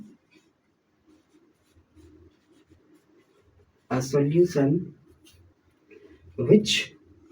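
Faint pen strokes scratch softly at intervals as a definition is written by hand during a Class 9 chemistry lecture, with a teacher speaking between the bursts of writing.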